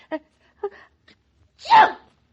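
A few faint small sounds, then one loud, sharp sneeze bursts out near the end.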